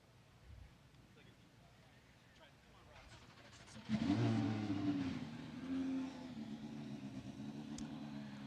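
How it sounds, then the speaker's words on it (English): Indy Lights race cars fire up at a trackside circuit, a low engine roar rising from a distant rumble into a steady, fairly loud drone, with a voice talking over it. "Your trackside, you'll hear some engines firing up here."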